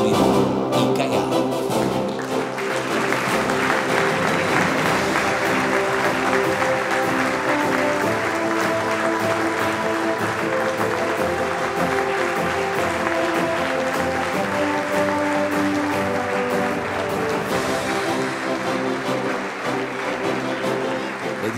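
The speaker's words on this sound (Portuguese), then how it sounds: "Aplauso para Nuno Moreira e Caiado." An audience at a municipal sports gala in Óbidos claps steadily for most of the stretch, a dense, sustained applause with some voices mixed in.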